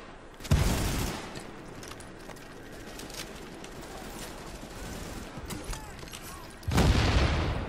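Bomb blasts in The Division video game, with two heavy booming detonations near the start and end and a rumbling, crackling wash of gunfire and debris between them, loud and close.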